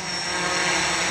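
Quadcopter drone fitted with Sunnysky 2212-13 motors and DJI 10 x 3.8 props on a Naza Lite controller, giving a steady, loud whirring buzz of spinning rotors at full throttle with no pauses.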